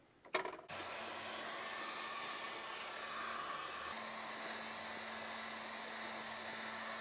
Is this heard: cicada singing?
no